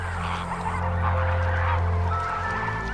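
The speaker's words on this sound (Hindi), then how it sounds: "जैसे कि फ्लेमिंगो, पेलिकन, स्टॉक, बगुले और अन्य जल मुर्गियां तथा जल पक्षी।" Water birds such as geese honk and call repeatedly at Sambhar Lake, a large saline wetland in Rajasthan, India, forming a dense, steady chorus of overlapping calls over a continuous low background hum.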